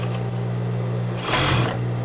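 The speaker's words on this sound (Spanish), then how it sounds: "ya estamos aquí en la over y vamos a limpiar la costura de la sisa" An overlock serger finishes the armhole seam of a dress, its steady close motor hum swelling into a louder burst of fast stitching before it settles again.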